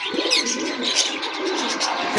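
Pigeons at a market coo softly in overlapping calls with some light chirps, steady and fairly near, with no voices.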